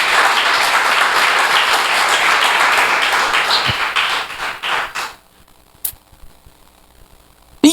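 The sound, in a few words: congregation applause in a church service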